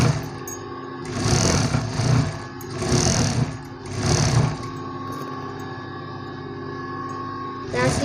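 A sewing machine stitching a one-inch folded hem on a blouse runs in three close, loud bursts of rapid whirring with short pauses between, then drops to a quieter hum.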